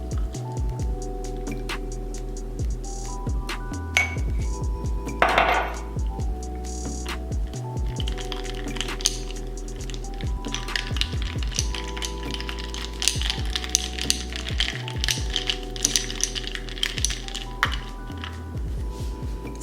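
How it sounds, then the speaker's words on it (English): A fork clinks and taps against a cup while matcha is mixed, giving quick repeated light ticks over a steady low background hum, close and soft, with no voices. "Honestly, I just use a fork and a cup."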